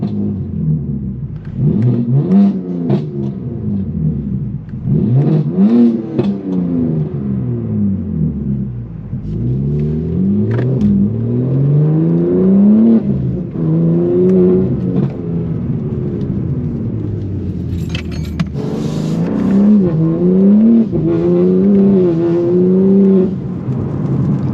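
A BMW M4 (G82) sports car engine revs and accelerates repeatedly, rising and falling in pitch as it pulls through gears, loud and close for the whole stretch, as light rain begins.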